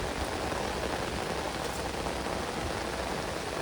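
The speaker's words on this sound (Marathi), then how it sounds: "पाऊस पडतोय. पाऊस खूप आहे मित्रांनो." Heavy rain falls outdoors during a night crab hunt, a dense, even hiss of drops on the ground that stays constant throughout with no voices.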